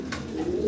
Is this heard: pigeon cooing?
yes